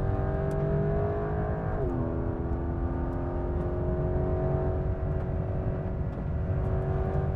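A Porsche 911 GTS T-hybrid, the lightest C2 version with a single turbo and hybrid boost, pulls hard around the Ascari track. Its loud, continuous engine roar drops in pitch at a gear shift near two seconds, then climbs again.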